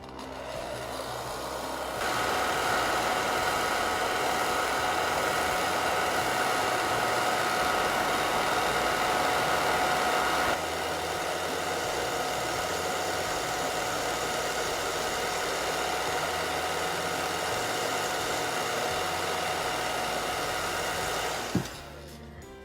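A hair dryer blows steadily for around twenty seconds to dry painted freckles on a doll, a loud continuous whooshing hum that shifts setting partway and then clicks off at the end.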